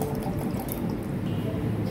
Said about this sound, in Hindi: और 1 लीटर के करीब मैं इसमें पानी डालूंगी ठंडा वाला।